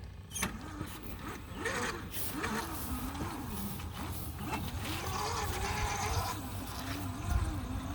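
A 1/5 scale mega RC crawler with a 997 brushed motor on 36 volts drives in low gear. The motor's whine rises and falls in pitch as the throttle changes, over steady mechanical drivetrain noise throughout.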